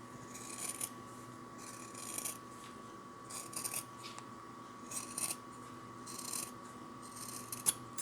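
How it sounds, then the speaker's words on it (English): Scissors snip away excess material at the corner of a handmade remote and tablet holder, several short cuts in uneven bursts over a low steady hum, close and fairly quiet. "The next thing I want to do is trim off this excess in the corner"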